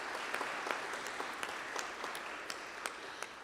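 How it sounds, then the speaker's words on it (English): Applause from a church conference audience for the worship team at an annual gathering, a steady, fairly distant wash of many hands clapping with a few sharper individual claps standing out, no voices. "Can we give them a round of applause"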